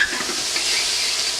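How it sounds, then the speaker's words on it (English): A pepper blend sautéing in a pan gives a steady, close, even sizzling hiss that holds without a break, with no voices. "that's just a nice pepper blend that we have right there that's sauteing up nicely"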